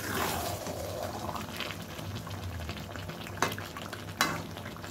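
Onions for a mutton curry fry in a pan with a steady, soft sizzle that runs throughout, and a couple of sharp clinks from stirring come near the end.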